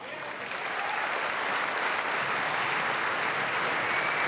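Sustained applause from the audience in a large chamber during the State of the Union address, a dense, steady wash of clapping that swells slightly at the start and holds loud throughout with no talk over it.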